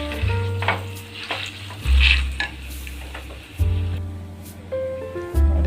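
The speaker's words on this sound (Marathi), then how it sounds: "बिया काढून घ्यायच्या आणि पूर्ण तुपात भाजून घ्यायचं मेल्ट होईपर्यंत" Pitted dates roast in ghee in a pan, a sizzling hiss broken by repeated scraping stir strokes and low rumbling knocks of the utensil against the pan, close and fairly loud.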